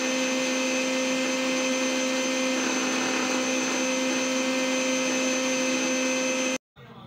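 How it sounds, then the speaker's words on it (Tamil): A mixer grinder beating eggs whirs steadily at high speed, loud and continuous with a strong motor hum, then cuts off abruptly near the end. "இப்போ நான் வந்து மிக்ஸியில் ஓட்டிக்கிறேன்."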